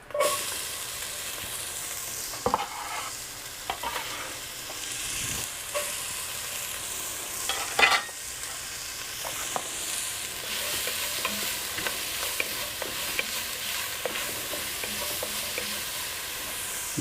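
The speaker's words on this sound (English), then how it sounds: "Put our onions in." Chopped onions sizzle and fry in oil in a pot for Tex-Mex chili with chorizo, with a steady hiss broken by scraping stirs and clanks of the spoon, close and fairly loud, no talking.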